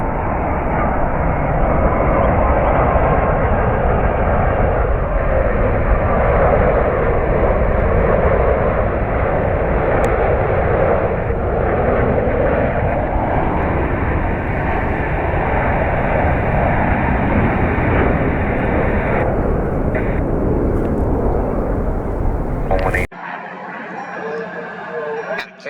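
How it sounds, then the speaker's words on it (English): A Boeing 787 Dreamliner jet airliner arriving at Washington Dulles from London, a loud sustained engine roar that holds steady for over twenty seconds before cutting off abruptly, with faint radio-style chatter near the end. "It's a 787 Dreamliner inbound from London."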